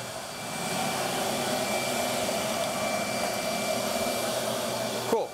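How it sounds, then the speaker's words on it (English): A MetroVac vacuum with a tangential bypass motor runs with its muffler removed, a steady, moderately loud whirring roar that holds evenly throughout and ends with a brief click. "So I really do think this is a tangential bypass motor."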